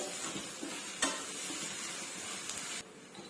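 Ginger garlic paste fries in a pan with a steady close sizzle and a couple of sharp stirring knocks, cutting off abruptly just before the end.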